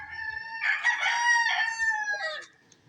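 A rooster crows once, a drawn-out clear call near the listener on a farm, with faint clucking of chickens underneath and quiet afterward.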